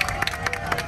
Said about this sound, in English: Let's keep that applause going for Dean, our driver.